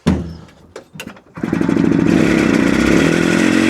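A long-parked barn-find Italian micro van's small engine cranks and coughs a few times, then catches and settles into a loud, steady, buzzy idle close by.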